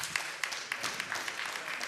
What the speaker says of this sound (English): And I see a lot of you clapping.